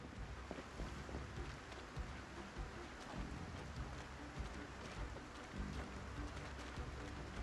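Steady rain in the zombie survival video game Project Zomboid, a dense, even hiss of falling drops that continues without letup, with no talk.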